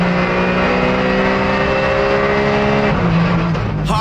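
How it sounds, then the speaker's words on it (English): A Porsche GT4 race car on an Italian circuit, its engine roaring loud and close at a steady high pitch down the straight, then shifting and changing tone near the end. "the Porsche engine singing on the straight"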